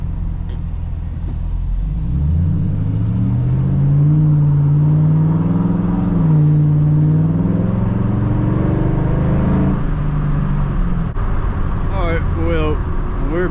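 A Ford Mustang 3V driven at night, its engine heard from inside the car as a loud, steady drone that climbs in pitch while accelerating and then holds, with faint voices near the end.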